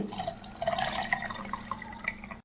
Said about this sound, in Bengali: এবার ঠান্ডা করা দুধটা এই আমের রসটার সঙ্গে দিয়ে দিচ্ছি।